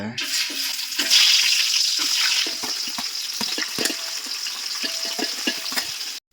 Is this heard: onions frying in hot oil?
yes